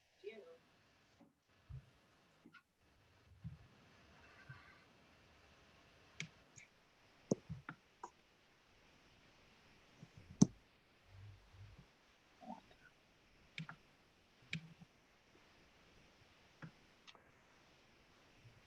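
Computer mouse clicking during an online select board meeting, a series of faint, sharp separate clicks scattered irregularly over quiet room noise, with voices talking softly in the background.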